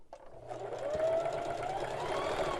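A sewing machine runs steadily along the hem of a Christmas tablecloth pillow, a close, continuous mechanical whir starting after a brief click and holding level throughout with no talking.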